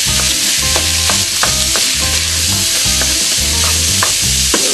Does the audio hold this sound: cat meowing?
no